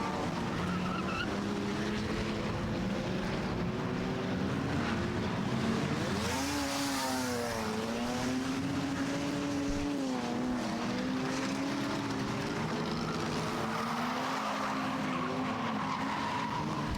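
Race car at Star Speedway spinning out and skidding, with a continuous loud engine roar, sweeping pitch changes and tire squeal through the spin, alone with no talk.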